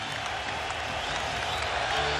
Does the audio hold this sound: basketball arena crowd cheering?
yes